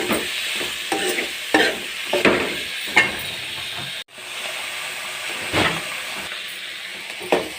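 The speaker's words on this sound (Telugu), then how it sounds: "కాసేపు ఇట్లా కలుపుకొని" White carrot curry being stirred in a pan, repeated scraping strokes of a spatula at an irregular rhythm over a continuous soft sizzle and hiss of steam, close up, with one brief cut midway.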